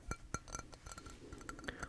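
A drinking glass set down among bottles of sports hydration drink, giving a series of sharp, bright clinks and taps in quick irregular succession, close and quiet, with no voice.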